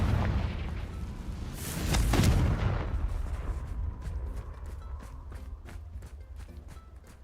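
A Confringo blasting spell explodes in Hogwarts Legacy, a deep boom swelling then fading into rumble, followed by a series of sharp, rapid impact cracks.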